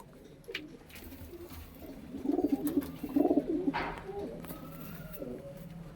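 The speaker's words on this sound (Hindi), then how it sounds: "लाल चीना नर का बहुत अच्छा कबूतर है भाई, उड़ने वाला कबूतर है।" Soft, throaty cooing from a red Chinese male flying pigeon in a few short bursts over a low background rumble, with faint voices nearby.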